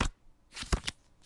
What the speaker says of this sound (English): So let's go ahead and deal.